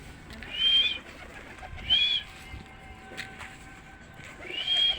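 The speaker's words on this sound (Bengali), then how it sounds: "এখানে তো কবুতর অলরেডি আছেই" Pigeons coo on a rooftop in three soft, rounded calls spaced about a second apart, moderately near against a quiet outdoor background, with no talking.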